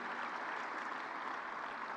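An audience claps at a live foundational-learning event after a student performance, a steady, dense wash of applause holding at an even level for the whole stretch, with no voices over it.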